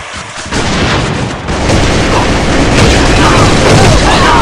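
Loud grenade blast and rumbling gunfire in the online shooter AVA, a sustained dense roar of explosions and shots with a sharp boom around the half-second mark.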